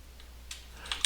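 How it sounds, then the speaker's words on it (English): Keys clack on a computer keyboard in a few quick, separate taps that grow slightly louder toward the end, close and alone over a quiet background. "So here we'll just click and then start typing"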